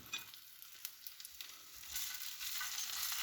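Sausages frying in a pan, a soft steady sizzle with scattered crackles and small spitting pops that thicken into a denser hiss toward the end.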